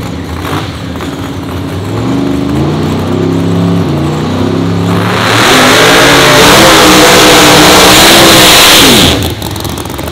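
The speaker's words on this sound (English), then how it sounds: "I knew what car that was. The loudest one on the property, that is the 66 Chevelle of Craig Shefchik." Supercharged Hemi-powered 1966 Chevrolet Chevelle drag car at a dragway, its engine loud and close, revving in rising and falling pulls before climbing to a sustained roaring peak and then cutting back.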